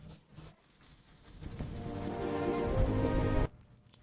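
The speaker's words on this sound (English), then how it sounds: "The rain is very heavy outside." Heavy rain pours down outside on a city street at night, a dense steady wash that swells louder toward the middle and then cuts off abruptly, with no voices over it.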